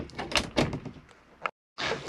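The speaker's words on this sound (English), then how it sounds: "And then you do have your folding toilet door there." The folding toilet door of an Adria Sun Living 640 caravan is pulled along, making a rattling, clattering slide followed by a sharp knock as it closes, then a brief silence before another burst of rattling.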